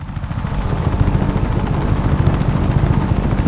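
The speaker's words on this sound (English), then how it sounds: "a different helicopter might be easier, because it might turn faster" A helicopter in the video game Just Cause 3 thuds steadily with a loud, close, continuous rotor chop and engine drone, with no talking.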